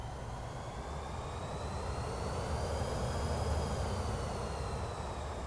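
A Pilatus PC-24 business jet's engines whine in the flight simulator MSFS 2024, a continuous roar with rising tonal whistles over a low rumble, moderately quiet and alone.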